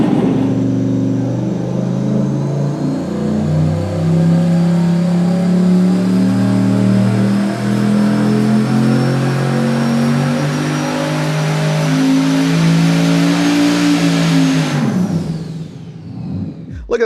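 A race engine on an engine dyno, tested with intercooling versus water-methanol injection, revs hard and loud for about fifteen seconds with a steady climbing tone, then cuts off abruptly near the end.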